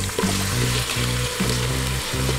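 Chicken pieces hit a hot pan of aromatics for Filipino arroz caldo, a dense, continuous sizzle and crackle with a rhythmic scraping of a spatula stirring every second or so, close up and with no talking.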